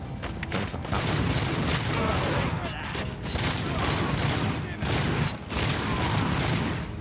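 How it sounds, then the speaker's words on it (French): Enemy gunfire in RoboCop: Rogue City, loud bursts of rapid automatic shots crackling almost without pause, with short breaks between volleys and heavy mechanical clatter. "Il y a quelqu'un qui me tire là-bas."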